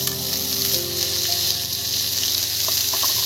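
Ginger, turmeric paste and chili hitting Bombay duck (lote fish) frying in oil, a loud, close, continuous sizzle with faint stirring scrapes.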